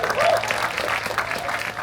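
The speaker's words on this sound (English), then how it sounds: "If we can give everybody a round of applause" A crowd of teachers and guests claps steadily at a county teachers' salute ceremony, dense sustained applause throughout, with a faint voice beneath.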